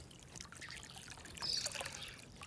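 Water trickles into a container in hot afternoon sun, a soft, continuous splashing dribble that swells briefly in the middle, heard up close with no voices.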